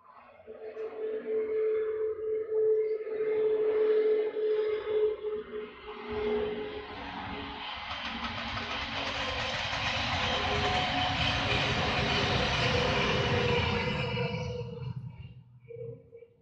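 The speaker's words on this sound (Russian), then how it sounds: "Здесь вот шум такой сильный, здесь испытывают поезда." A fast test locomotive train roars past with a long whining tone and rushing rumble, swelling and fading over several seconds, with no one talking.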